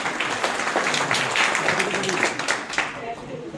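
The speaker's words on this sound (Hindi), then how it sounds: "मैडम आम समस्त गोटे जोरदार करताली प्रदान करेंगे।" An audience at a Hindi poetry book launch gives a strong round of applause, a dense, continuous patter of many hands clapping throughout, with voices talking over it.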